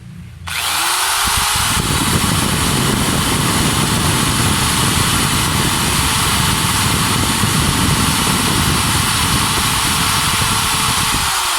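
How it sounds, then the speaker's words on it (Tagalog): A corded electric drill spins up after a brief start and runs steadily at full speed, a loud, constant motor whine and buzz held without pause for about eleven seconds, with no talking. "kapag pinaandar na po natin ang ating electric drill"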